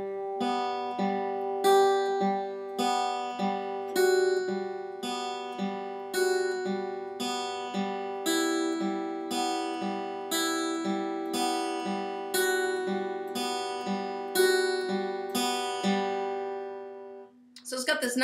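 An acoustic guitar plays a beginner song's repeating fingerpicked pattern, evenly plucked notes in a steady rhythm ringing over sustained strings, close and clear with no talking over it.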